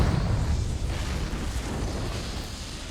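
The Confringo fire spell going off in Hogwarts Legacy, a deep rumbling blast that stays loud and dense for about three seconds before easing off slightly.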